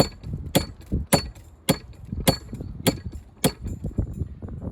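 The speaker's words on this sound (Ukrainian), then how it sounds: "молоток відлітає від нього далі, як від пружини" A hammer strikes a steel tank hinge in a workshop, landing seven sharp, evenly spaced metallic blows about half a second apart, each springing back with a ringing bounce, close and loud.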